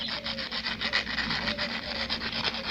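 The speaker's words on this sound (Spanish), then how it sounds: "Con la lija de agua." Rhythmic rasping strokes of wet sandpaper rubbing back and forth against a part of a two-needle flat sewing machine, close and steady, with no voices.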